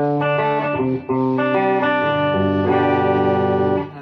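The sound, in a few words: electric guitar played through a distortion simulator mod on the clean channel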